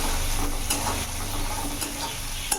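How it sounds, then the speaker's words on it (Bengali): Chopped onion with black cumin tempering frying in a pan over medium flame, a steady close sizzle with occasional stirring scrapes throughout. "পেঁয়াজটা একটু ভেজে নেবো যাতে কাঁচা ভাবটা চলে যায়"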